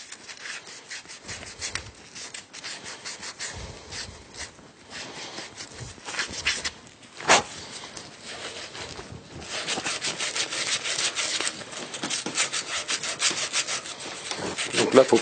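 Brass fitting being scrubbed clean before tin soldering, a close, continuous rasping rub with uneven strokes that grows denser and louder in the second half, no speech.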